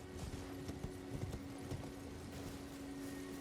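Horse hooves galloping across open ground in Elden Ring: a steady, fairly quiet rhythm of clip-clop beats runs throughout over a low game ambience, with no voices.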